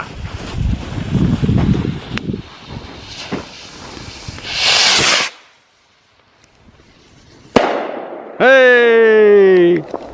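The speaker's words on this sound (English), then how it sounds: "Fireworks are a great invention." A firework fizzes and hisses, then goes quiet before a sharp bang and a rising whistling screech with an echo; voices and wind noise are heard early on, outdoors at a snowy camp.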